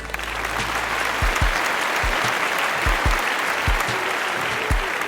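An audience at a Magic: The Gathering tournament broadcast bursts into loud, sustained applause, a dense wash of clapping with a few sharper claps standing out.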